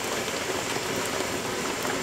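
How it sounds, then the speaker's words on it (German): Rain dripping onto a burning Optimus Polaris camping stove outdoors, a close, continuous hissing patter with no pauses. "liegt wahrscheinlich auch an dem Regen, der immer wieder drauf tropft"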